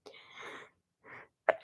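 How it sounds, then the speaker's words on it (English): A short, breathy sneeze close to the mic, followed by a quieter exhale and a brief sharp sound at the end. "Excuse me, I gotta sneeze."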